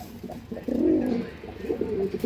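Close pigeon coos from quality breeding birds, a soft murmur swelling into one strong rolling coo midway and a lighter coo toward the end, with no voices.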